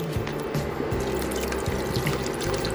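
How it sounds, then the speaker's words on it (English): Water from a bottle splashes steadily into a pot of Creole chili with red beans, a continuous close pouring and gurgling sound with slight rhythmic glugs. "we're gonna add some more water."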